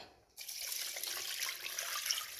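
After a quiet moment, water pours steadily into a pressure cooker, a continuous rushing splash that holds to the end.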